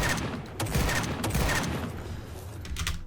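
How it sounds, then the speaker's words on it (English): Revolver fire in the Minecraft JCraft JoJo mod: a dense, continuous crackle of rapid shots with several sharper cracks standing out, loud and close, with no voices over it. "We have a revolver. And then we can shoot bullets."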